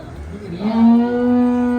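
A dairy buffalo at a livestock sale in Punjab lets out a single loud, close moo that rises and holds steady for about a second, with faint background noise before it.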